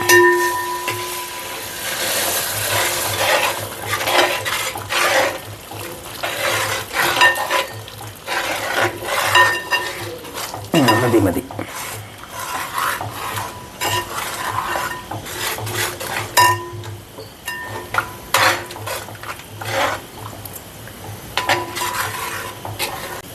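Prolonged stirring in a pot: a spoon scrapes and taps the metal repeatedly over a bubbling, sizzling curry, with no voices.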